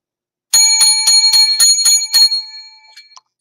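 Seven small lucky bells rung one after another on a live show, bright, piercing metallic dings at a steady quick rhythm, the last ones trailing off into a fading shimmer.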